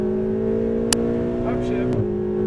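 A Ferrari 488 GTB engine holds a steady, loud drone under throttle with a sharp click near the end as it upshifts, heard from inside the car.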